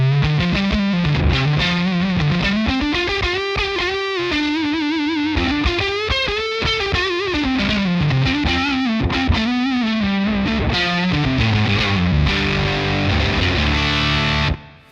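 Electric guitar through a Jam Pedals Eureka fuzz with the gain fully up, playing a continuous saturated melodic line for about fifteen seconds, thick and loud, ending with an abrupt stop.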